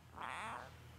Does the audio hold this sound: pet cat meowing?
yes